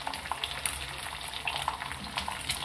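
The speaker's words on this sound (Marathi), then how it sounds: "आपली अशी अंडी चांगली अशी फ्राय झालेत" Eggs fry in a hot pan for an egg masala curry, giving a steady close sizzle with scattered crackling pops that runs throughout and has no talk over it.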